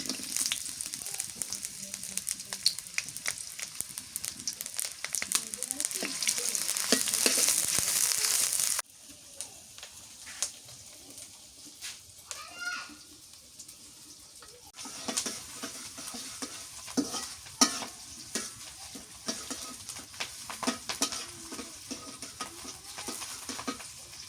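Onion and green chilli frying in a pan, a close, crackling sizzle with frequent stirring scrapes and clacks; the hiss swells loudly early on, then drops lower and continues with intermittent stirring.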